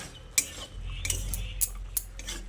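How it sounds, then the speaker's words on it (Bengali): Drumstick pieces being sautéed with spices in a pan, giving a low steady sizzle broken by a few sharp metallic clinks and scrapes of a spoon against the pan. "তারপর সজনের ডাঁটাগুলো দিয়ে মশলার সঙ্গে খুব ভালো করে কষিয়ে নিচ্ছি।"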